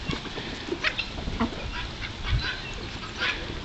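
On a farm, a flock of ducks eating corn gives scattered quacks and honks over a busy, noisy outdoor background, calls coming in short irregular bursts.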